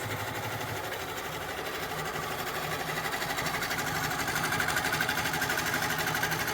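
A quilting sewing machine stitches a long straight line of half-inch quilting, giving a steady, continuous mechanical whir with a fast, even rhythm that holds from start to finish, close and clear with no voices.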